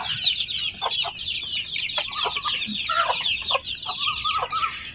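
Chickens cluck steadily in a fenced rooftop garden coop, several birds calling in short overlapping bursts at close range over a soft outdoor background.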